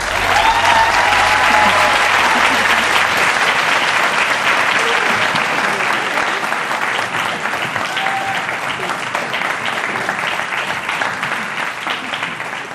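Loud, sustained applause from a large audience welcoming Desmond Meade to the stage, a dense steady roar of clapping that fades gradually toward the end, with no talk over it.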